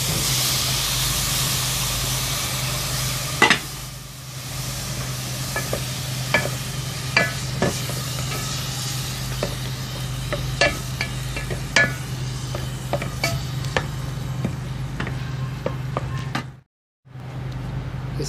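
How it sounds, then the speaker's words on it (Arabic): Onion, garlic and tomato frying in oil in a pan for an Iraqi fish stew, a steady hiss and sizzle broken by frequent sharp clicks and scrapes of stirring, with a brief dropout near the end. "حمسنا البصل وذبينا الثوم برشناه وذبينا عليه سنذب الطماطة"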